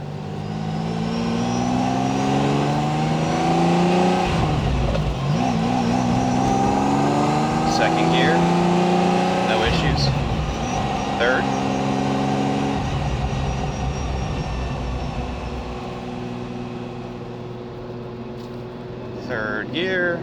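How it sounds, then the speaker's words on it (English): A 1988 Ferrari Testarossa pulls hard through third and fourth gear, its engine note rising steadily then dropping at each upshift, loud and continuous from inside the car. "third gear, fourth. It pulls in any gear"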